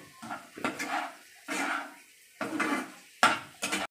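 Okra and potatoes stir-fried in a pan over a raised gas flame, with utensil scrapes and clatter coming in irregular bursts and a soft sizzle between them, close and moderately loud.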